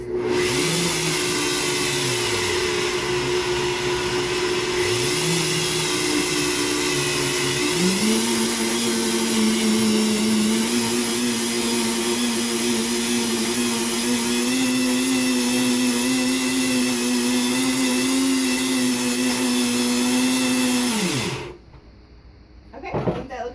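A kitchen machine grinds oats and Brazil nuts into fine flour, a loud, steady motor whir with a rising pitch that runs continuously for about twenty seconds before cutting off abruptly.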